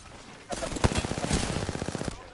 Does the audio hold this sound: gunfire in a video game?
yes